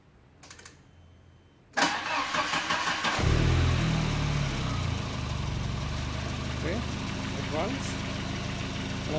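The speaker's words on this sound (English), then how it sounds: "now I'm going to start the engine" A car engine fitted with a newly installed single-channel CDI ignition module cranks after a quiet pause, catches and settles into a steady, loud mid-pitched idle near 800 RPM, with a few faint clicks over the running engine.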